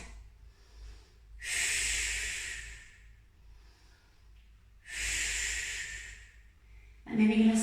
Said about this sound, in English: Breathe here for 2 breaths.